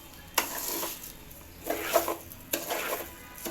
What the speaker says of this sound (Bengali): চালটা ভালো করে কষিয়ে নেবেন।